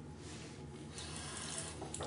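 Water runs steadily from a tap in a tidy public toilet, a faint, even rushing hiss that continues throughout.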